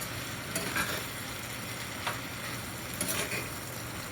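Hushpuppies frying in hot oil until brown, a soft steady sizzle with a few light stirring scrapes at irregular moments, close but fairly quiet and free of speech.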